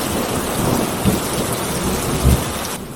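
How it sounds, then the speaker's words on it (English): Heavy rain pours steadily in a nighttime thunderstorm, with low thunder rumbles swelling at intervals beneath the dense, loud downpour; no voices are heard. "But as the clock struck midnight, an unnatural storm raged outside."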